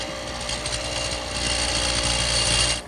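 A power tool cuts into wood, widening a mortise for a turned-post bed; a steady, loud grinding whir with rapid mechanical rattling runs throughout, swelling slightly toward the end before cutting off.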